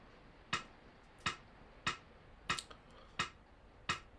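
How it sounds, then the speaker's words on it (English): Metronome set to a half note in a clave lesson for improvisers: six sharp, faint clicks at a steady pace of roughly one every 0.7 seconds, with no other sound. "I'll put my metronome on a half note,"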